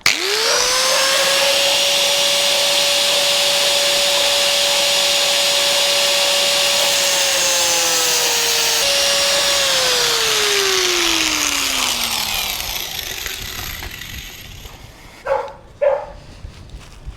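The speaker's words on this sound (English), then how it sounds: "With the angle grinder. So I'm just going to go and cut that off" An angle grinder cuts off the bell crank horn of a pit bike's lever during an ASV folding lever install on a $250 pit bike: a loud, steady motor whine for about twelve seconds that winds down, followed by two short knocks.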